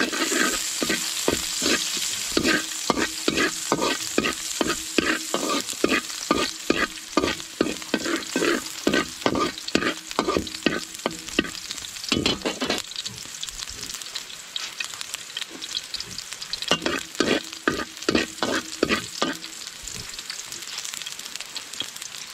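Garlic fries and sizzles in a pan while a utensil stirs and scrapes it in quick repeated strokes, close and steady, with a brief lull before the stirring picks up again, cooked for pineapple chicken.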